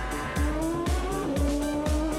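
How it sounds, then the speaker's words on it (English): A modern Formula 1 Grand Prix car driven by David Coulthard along a canal-side straight, its high-pitched engine note climbing hard through repeated rising gear-change sweeps, loud and close, with no voices. "proving the prodigious power of a modern Grand Prix car"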